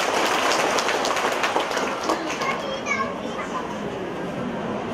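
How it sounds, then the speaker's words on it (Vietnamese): A church congregation bursts into dense, sustained applause and cheering that fills the room, then eases off as voices take over. "Chúng ta cho một tràng pháo tay nữa để chúng ta tạ ơn Chúa."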